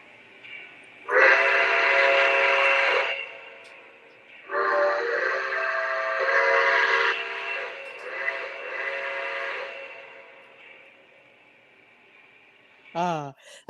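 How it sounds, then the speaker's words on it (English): A model steam locomotive's Niagara whistle blows two long, loud blasts with a rich chord-like tone, fading slowly between them, then a short sharp toot at the end. "I've always liked the Niagara's whistle as well."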